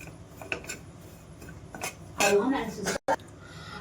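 Metal clinks and scrapes against a wok as a spatula stirs grated coconut being roasted, with a few louder scraping bursts near the end.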